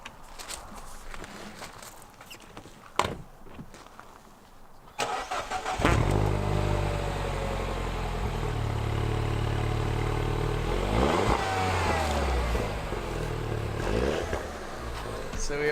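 A car with a snowball packed in its exhaust sits quietly with faint rustling and steps nearby. Then the starter cranks and the engine catches, running loud and close at idle before revving up.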